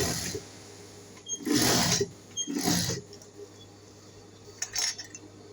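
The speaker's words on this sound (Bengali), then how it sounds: "এখন আমি সাইড দিয়ে সেলাইটা করে নিচ্ছি" A sewing machine runs in three short bursts, stitching the side seam of a baby frock, with quiet pauses and a low steady hum between runs.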